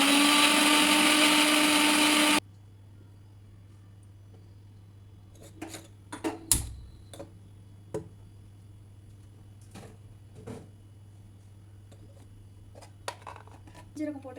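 A kitchen blender grinding ginger, garlic and onion into paste, a loud harsh whirring burst for about two seconds that stops abruptly, followed by quiet handling clicks, knocks and a low hum.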